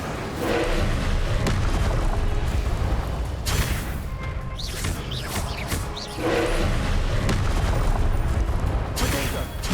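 Hogwarts Legacy spell combat with repeated Incendio fire blasts and Confringo explosive curses, a dense, loud wall of booming impacts and crackling bursts that barely lets up, overlapping one another throughout.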